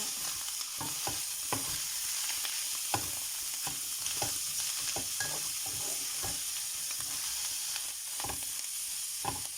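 A chicken musakhan mixture with parsley stirred in a pan, a loud continuous sizzle broken by repeated scraping stirs at an uneven rhythm, close up and without talk.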